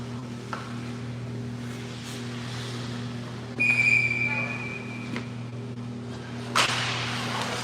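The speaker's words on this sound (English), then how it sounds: "Whistle goes." A referee's whistle at an under-18 ice hockey game sounds as one clear, moderately loud blast of about a second, set against steady rink ambience and a low arena hum, with another sharp crack shortly after.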